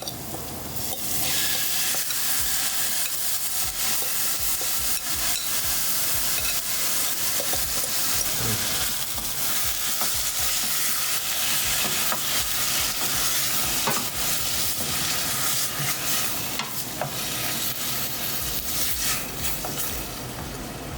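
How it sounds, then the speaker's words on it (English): Pork for keto BBQ dim sum buns sizzles hard in a hot pan with aromatics, a loud, dense, continuous frying hiss with crackles lasting throughout, up close and without speech. "That's going to saute by itself for a little bit."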